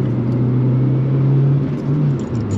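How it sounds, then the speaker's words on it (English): A Honda EP3 Civic Type R with a twin plate clutch, its engine droning steadily from inside the car and then stuttering briefly as it hits the boost cut, with a slight dip in tone near the end. "Oh, boost cut, forgot about that."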